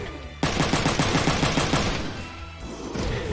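Rapid burst of mech gunfire from a Front Mission 3 battle, a fast run of regular shots starting abruptly and rattling for about a second and a half before fading into a lingering rumble.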